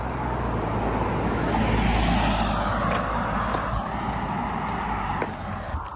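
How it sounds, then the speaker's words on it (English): A car approaches along a quiet road in a remote hiking area, a broad rising roar of engine and tyre noise that swells to a peak around the middle, then slowly fades, with no talking. "There's a car coming, guys."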